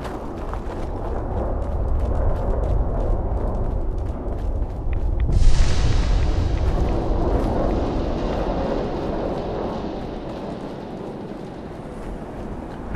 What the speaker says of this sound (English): we had a radiation storm